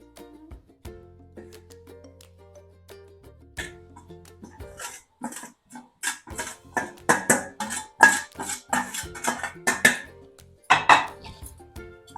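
Poha, a flattened rice, goes into a pan of onion and potato for a Maharashtrian breakfast and is stirred. A quiet start gives way to a run of close, sharp clinks and scrapes of a spoon against the pan.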